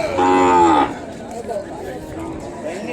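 An Ongole cow at a busy cattle market lets out one loud, close moo at the start, followed by crowd chatter and people talking in the background.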